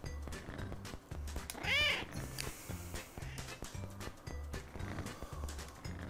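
A single drawn-out cat meow from the video game CatNab rises clearly over a looping, bouncy background music track, followed by the game's beat continuing alone.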